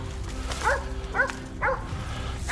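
Hunting dogs on a wild boar hunt give three or four short barks and yips at a moderate distance, spaced about half a second apart over a steady low outdoor rumble.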